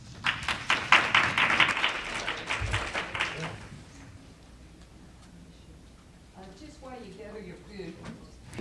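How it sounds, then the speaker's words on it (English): An audience gives a round of applause at a National Health Service Corps event, a loud burst of clapping that fades after a few seconds into quiet room tone, with faint voices talking later. "give these guys a big round of applause"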